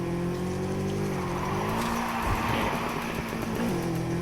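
A car drifting in a Skyline racing video game, a steady engine drone with rising and falling pitch as the tires squeal and skid through a long turn, loud and close throughout, with no talking.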